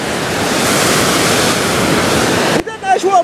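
Sea waves near Agadir roar as a broad, loud, steady wash with wind buffeting during heavy rain and flooding, then cut off abruptly to a brief quieter moment with a voice.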